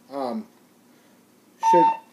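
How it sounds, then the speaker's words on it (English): A single steady electronic low-battery beep from a wind-up walkie-talkie, of moderate loudness, with a short spoken voice just before it and briefly overlapping. "that beeping is telling me that my battery is low"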